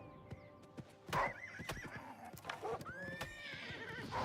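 Horse in the video game Oblivion giving a loud, warbling neigh and whinny amid scattered hoof clops and sharp game sound effects, close and clear, with no talking.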